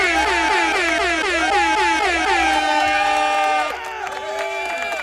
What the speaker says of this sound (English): You know what you get? An air horn.